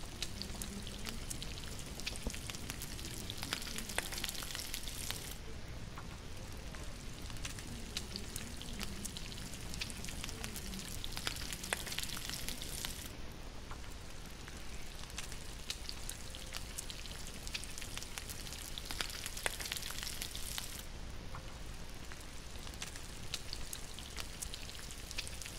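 Rabbit meat frying over a fire in The Long Dark, a steady dense sizzle and crackle running continuously throughout with no talking.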